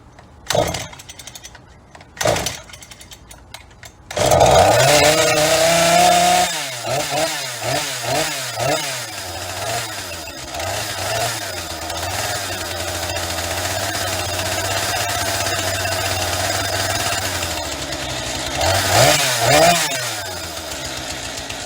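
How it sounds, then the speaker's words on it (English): Husky 435 chainsaw, a salvaged saw: a couple of short pulls, then the engine catches and revs in rising and falling bursts before holding a loud, steady wide-open-throttle scream, with a final rev near the end. "All right, we got the throttle wide open now."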